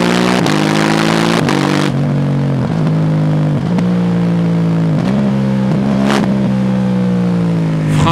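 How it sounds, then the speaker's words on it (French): KTM 790 Duke twin-cylinder motorcycle, 105 horsepower, revving and accelerating up close with a steady engine drone, repeated throttle blips and a faint whistle over the loud exhaust note, no talk. "quand j'accélère, il y a un petit sifflement"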